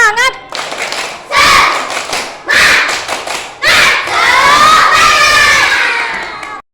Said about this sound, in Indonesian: Coba sebelumnya kita tepuk semangat dulu.